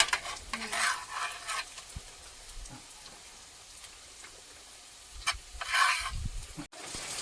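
Onions and garlic fry and sizzle in a pan for a meat gravy, with spoon stirring and scraping clatter rising in a few louder bursts over a steady hiss; no voices.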